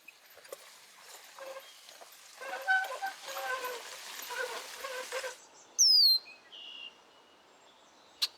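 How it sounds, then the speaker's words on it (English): A bird calls in a garden with a few sharp, rising whistled notes standing out near the end after a stretch of busy, crackling background noise. "This bird never liked me."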